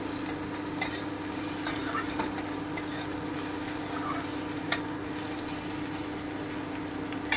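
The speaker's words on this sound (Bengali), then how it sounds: "জাস্ট একটু ভেজে নিচ্ছি" Crushed garlic fries in a pan over medium heat with a steady close sizzle, punctuated by regular crisp taps and scrapes of a spatula stirring about once a second, and no voices.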